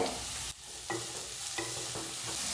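Chopped onions frying in hot oil with cloves and cardamom, a steady close sizzle broken by a brief dip and a few scraping stirs of the spoon, with no voices.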